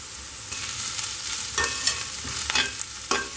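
Ginger is stirred into onions already frying in a pan with green and dried chilies, giving a soft steady sizzle broken by several scraping clicks of the utensil, close and without speech.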